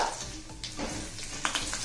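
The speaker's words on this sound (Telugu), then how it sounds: "ఈ తాలింపుని దోరగా వేగనీయండి" Mustard seeds, dried chillies, curry leaves and a pinch of asafoetida crackle and sizzle in hot oil for tempering, with a few sharp pops and light stirring scrapes close up.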